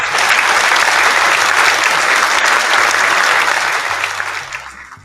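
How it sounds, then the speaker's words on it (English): Loud, dense applause from a live chat host and viewers, a continuous burst of many hands clapping that gradually fades toward the end. "Let me just give him a clap."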